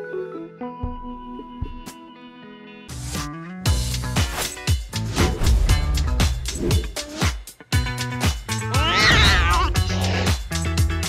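Indoor cats meow at birds outside a window, with drawn-out rising and falling cries near the end over steady clattering and thumping household noise; nobody talks.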